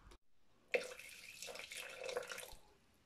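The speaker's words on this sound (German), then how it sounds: "Dann kommt jetzt noch Wasser dazu." Water is poured into a Thermomix bowl while making lemonade, a short splashing gush after a brief tap, lasting around two seconds before tapering off, close and fairly quiet, with no talking.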